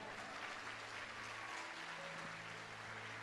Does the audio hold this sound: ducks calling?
no